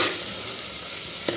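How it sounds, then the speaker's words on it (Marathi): Ground spice paste roasts in hot oil for a chicken dish while being stirred, giving a brief, close, steady sizzle with a soft scrape near the end. "तेल सुटेपर्यंत वाटण भाजायचं."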